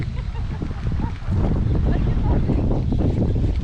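Strong wind buffets the microphone in heavy, rumbling gusts that intensify partway through, loud and close with no talking, outdoors by the water with grass.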